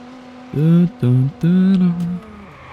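A car in the video game Watch Dogs drives along with a steady engine hum, then revs up in three loud bursts of acceleration with shifting pitch before settling back to a low drone.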